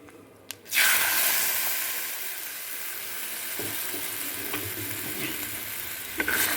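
A tempering of curry leaves dropped into hot oil in a pan for peanut chutney, a loud hiss that bursts in after a couple of clicks and then settles into a steady sizzle with light taps.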